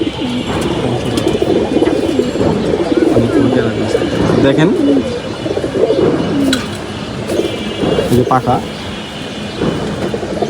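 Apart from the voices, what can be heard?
pigeons cooing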